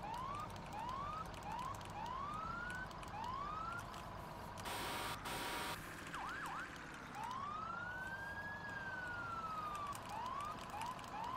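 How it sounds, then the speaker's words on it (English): In Farming Simulator 17, a new police Taurus siren yelps in fast rising whoops, with a brief burst of noise midway and one long wail. It plays at moderate distance over a low engine and traffic rumble. "So we're going to just kind of yelp the sirens."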